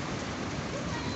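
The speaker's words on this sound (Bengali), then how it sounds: "বৃষ্টিটা হচ্ছে ভালোই।" Heavy rain falls steadily at two in the afternoon during the first Kalbaishakhi storm of the year, a dense, continuous hiss close by and unbroken, with no other sound.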